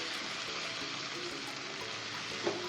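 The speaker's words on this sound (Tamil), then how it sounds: "இப்போ மஞ்சத்தூள், இஞ்சி பூண்டு பேஸ்ட்டு, வெங்காயம் எல்லாம் சேர்ந்து வதங்கிட்டு இருக்கு." Onions sauté in a pan with turmeric and ginger garlic paste, producing a soft, continuous low sizzle at modest volume with one faint clink near the end.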